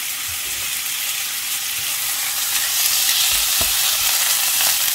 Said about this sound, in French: Maintenant, je fais revenir le steak avec des oignons.